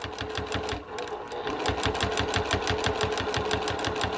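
A sewing machine stitches quilt binding around a curved corner with a rapid, steady needle rhythm, close and loud, briefly slowing near the start before resuming at full pace.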